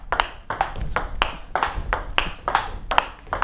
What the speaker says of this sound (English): So you see it's quite a tonk sound on the ball.